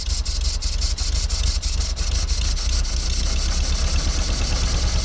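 A 1952 Fordson E83W pickup truck engine running unchoked after sitting for years, a steady loud rumbling idle with a slightly uneven, rough beat, heard close up and without voices.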